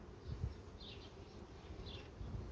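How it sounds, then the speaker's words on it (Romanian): A honey bee colony on a hive frame gives off a faint, continuous buzz. Individual bees drone louder for a moment as they pass close by, then fade. "O colonie de albine."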